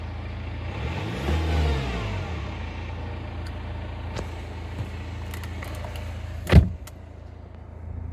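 A BMW diesel engine with a suspected cylinder 3 injector misfire idles steadily and fairly close, a low continuous rumble with a brief rising rev early on and a sharp mechanical clunk near the end.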